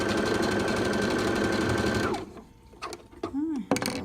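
A sewing machine stitches the hem of a rag rug in a fast, steady run for about two seconds. It then stops, leaving a few soft handling clicks and rustles of the fabric.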